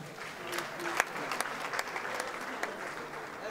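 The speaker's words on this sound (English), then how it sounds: "I'm going to clap for Two Face." Audience applause at a comedy show, fairly faint and a little distant, a steady patter of many hands with a few sharper claps poking through and voices in the background.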